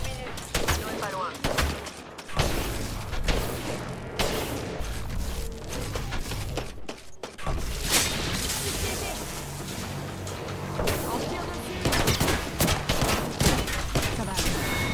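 Rapid automatic gunfire fills an Apex Legends video game match, dense bursts of shots cracking almost continuously with short pauses, while a player talks over the action.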